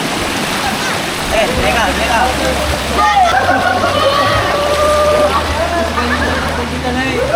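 River water of the Madlong River rushing and splashing over split rocks at Antong Falls in Sison, Pangasinan, a continuous close wash with people talking over it.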